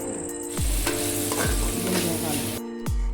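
Ginger garlic paste sautés in hot oil in a pan for a tofu gravy, a steady close sizzle broken by a few loud scraping stirs of a spoon against the pan.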